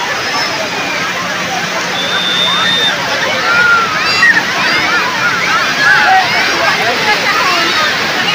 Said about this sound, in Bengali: দেখো বন্ধুরা, ঢেউ আসছে।